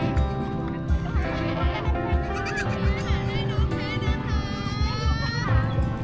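Goats bleat repeatedly while being fed milk at a busy attraction near Pa Sak Jolasid Dam, wavering cries rising over a steady murmur of crowd chatter and nearby talk.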